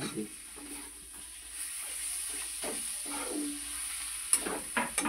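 Fourteen kinds of leafy greens frying in a pan, a low, steady sizzle with intermittent stirring scrapes and a few sharper clacks near the end, close and without talk.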